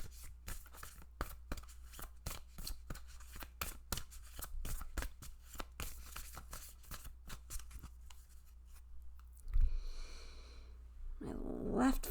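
Tarot cards being shuffled up close: a long run of quick, crisp riffling flicks in a steady rhythm, fairly quiet, then a few softer rustles and handling sounds near the end, with no talking.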